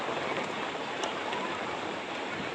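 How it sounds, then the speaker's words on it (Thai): Heavy storm rain pours down in a dense, steady hiss, loud and continuous with no voices. "บ่เซาง่ายดอกฝน"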